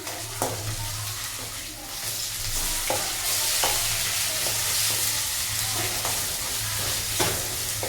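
Tomatoes fry in a pan with a loud, dense, continuous sizzle, and occasional scrapes of a spoon mark the stirring; the sound is close, with no speech.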